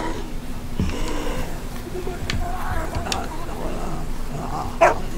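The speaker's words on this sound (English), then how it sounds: "Stop all that barking." A dog barks in The Walking Dead video game, short yips and whimpers at moderate distance under a voice and ambient game sound.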